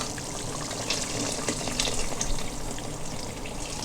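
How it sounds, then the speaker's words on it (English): Water poured into a pot of thickening meatball sauce, a steady broadband gush and sizzle running continuously throughout at moderate level with no talk. "So here we go, another half liter of water goes in."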